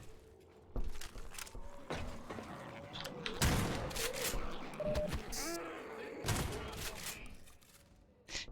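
Gunfire and combat in the video game Half-Life 2: MMod, scattered sharp shots and thumps with impacts and debris, a voice talking over parts of it.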